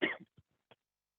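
A single short cough from a person in an online meeting, a strong burst followed by two faint trailing catches, then silence.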